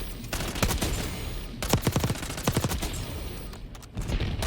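SMG fire in Black Ops 6, rapid automatic bursts of sharp cracks in quick rhythmic volleys, loud and close, separated by short pauses amid background game noise.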